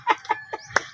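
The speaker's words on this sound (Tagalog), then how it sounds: "May manok." A chicken clucks four short times in an uneven rhythm, fairly close and quiet, with no talking over it.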